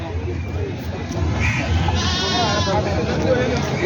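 Goats bleat repeatedly amid a busy outdoor goat market in Parbhani, Maharashtra, with people talking nearby over the animal calls.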